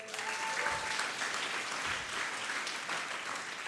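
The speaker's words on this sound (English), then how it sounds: "a big clap for them" An audience at the Oxford Foundry Demo Day 2019 breaks into a round of applause. The clapping is dense and even, holding steady from start to finish without talk over it.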